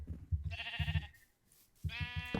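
Minecraft sheep bleat in the game, two or three close, buzzy wavering cries over a low rumbling background, with a short lull between them.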